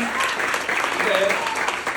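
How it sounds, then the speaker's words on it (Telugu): A school audience at Lahiri Vidyamandir claps for a student in a dense burst of applause, with a voice speaking over the clapping. "వాడి క్లాప్స్ కొట్టండి. Give him big hand, give him big hand."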